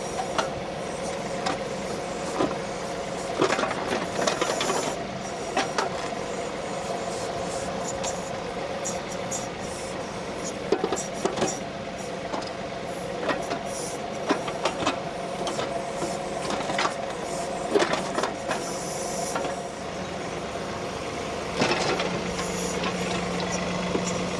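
Stump grinder chewing through a tree stump, a steady mechanical engine drone with harmonic whine and intermittent cutting bursts, close by and running continuously.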